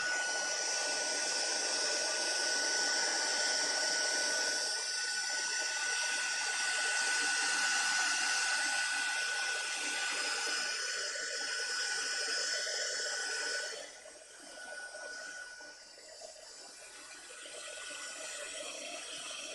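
A heat gun runs steadily as it warms up, a close, constant airy whoosh with a faint whine that drops somewhat in level near the end.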